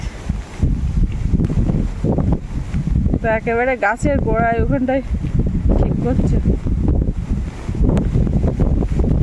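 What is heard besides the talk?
stormy wind of Cyclone Remal in Sundarbans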